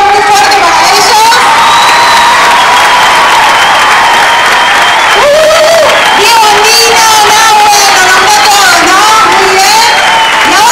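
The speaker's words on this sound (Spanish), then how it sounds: "Un aplauso por favor muy fuerte para ellos." A large crowd at a graduation dance show applauds and cheers loudly and continuously, with whoops and children's shouts mixed into the dense clapping and voices calling out over it.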